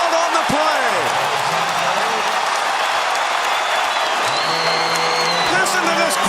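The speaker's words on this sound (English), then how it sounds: "Listen to this crowd as they just now figure out that Calvin Murphy's record has finally fallen" A basketball arena crowd roars and applauds after the Houston Rockets' single-game scoring record falls, a loud sustained wall of cheering with a commentator talking over it.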